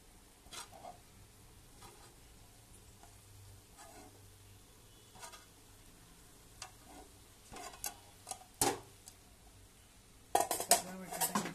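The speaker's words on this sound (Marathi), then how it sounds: "आता मी हे तव्यासकट त्याच्यामध्ये सोडत आहे. बघा बघू शकता मी सगळा बटाटा हा सोडत आहे असा." Potatoes slide off a griddle pan into a pot in a home kitchen, giving scattered metallic clinks, scrapes and soft sizzling that build to a louder clatter at the end, with no one talking.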